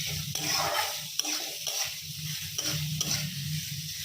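Thin strips of bottle gourd peel and potato sizzle in oil in a pan, a steady soft frying hiss broken by several clinking stirs of a utensil, close up and fairly quiet.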